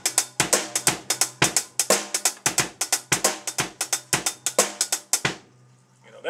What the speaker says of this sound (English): And the basic beat without the ghost note is...